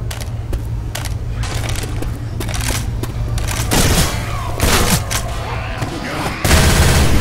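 Machine gun fire in Left 4 Dead 2, rapid bursts of loud gunshots crackling in uneven volleys over a low steady hum, with heavier blasts near the end.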